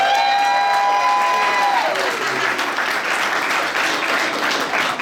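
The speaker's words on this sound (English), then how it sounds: "Can everybody give a round of applause for Petunia" A crowd claps and cheers loudly at a business resource center grand opening in the Eastern Sierra, with steady applause sustained throughout after a brief tone at the start.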